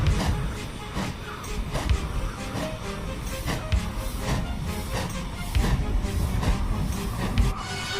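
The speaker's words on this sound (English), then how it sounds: "and Edward, with much puffing of steam, set off" Rumbling steam locomotive with rhythmic chuffing bursts and hissing, heavy and continuous, with clanking of carriages underneath.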